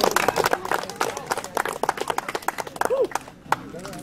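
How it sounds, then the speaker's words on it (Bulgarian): Scattered clapping rises from the crowd at a national Mazda meet in Veliko Tarnovo, Bulgaria, greeting a grey Mazda MX-6, number 82, with a lively voice calling over the applause and brief shouts mixed in. "Хайде вашите аплодисменти за МХ шестицата, сивата, 82."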